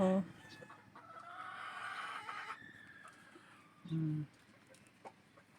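Free-ranging chickens and pullets cluck in a farm range area, with short close calls and a drawn-out rooster-like call in the middle over quiet outdoor background.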